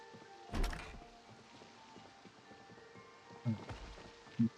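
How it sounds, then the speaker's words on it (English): Thumps of a zombie pounding on a door somewhere upstairs in Project Zomboid, one heavy blow early on and then a few more later, set against a low background hum with no voices. "whoever's banging on the door is upstairs here"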